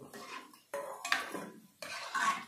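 Boiled eggs tumbled into a pan of egg and potato curry with jaggery, giving a few clattering knocks and scrapes of metal on the pan in separate bursts, close and fairly quiet.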